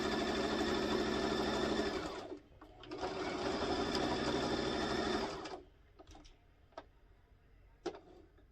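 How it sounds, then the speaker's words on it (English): A sewing machine runs in two steady bursts while stitching the last small section of a corner ball pit hammock, pausing briefly between them, then stops, leaving a few faint clicks and handling noises. "for your last little bit, you're going to sew that little tiny little section, and then you are finito."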